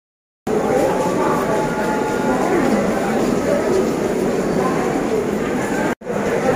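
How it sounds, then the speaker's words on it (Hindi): Crowded local commuter train in Mumbai, its steady loud rumble of rolling carriages continuing throughout with a brief break near the end, with a crowd murmuring inside. "अभी हूँ लोकल ट्रेन पे"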